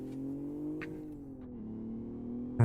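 A road car mod in the racing game Live for Speed drones with a steady mid-pitched engine note that rises and dips slightly as revs shift, close and continuous, with a brief click at the end.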